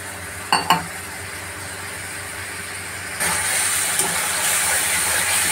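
Whisked yogurt poured onto powdered spices and chilli in a hot oiled pan: two quick utensil clinks, then a sudden burst of loud, bright sizzling that stays strong and steady, close by.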